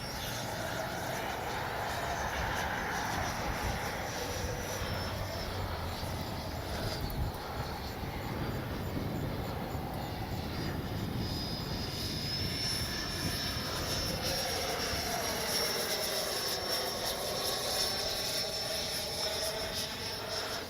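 An FMS Avanti S 70mm RC jet flies with a steady, loud ducted-fan roar and a rising and falling whine as it passes, against wind noise outdoors.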